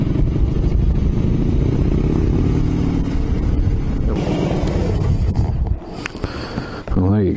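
A motorcycle ride heard from inside a Dyna Bell helmet, where dense, roaring wind rush and engine drone fill the sound continuously before the noise drops briefly and a few knocks and rustles come through near the end.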